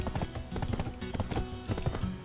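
Horse hooves clip-clop in a quick, steady rhythm in the Black Desert Online video game, with game music or ambience underneath and a whinny faintly possible.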